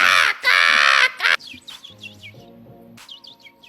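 A woman imitates a crow, voicing loud, harsh caws close up, followed by softer chirpy calls with a faint tonal hum underneath.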